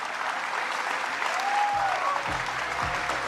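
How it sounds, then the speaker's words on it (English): A dense round of applause from an audience closing a community call, with steady clapping throughout and a brief voice or whistle tone rising faintly above it. "Please give a huge round of applause to the legend, Anatoly."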